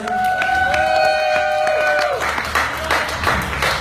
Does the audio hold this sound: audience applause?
yes